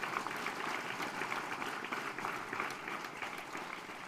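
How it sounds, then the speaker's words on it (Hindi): Applause from a seminar audience welcoming a guest, a faint, distant wash of many hands clapping that holds steady for the whole stretch without speech. "आप लोगों से निवेदन है कि तालियां बजाकर उनका आप स्वागत करें"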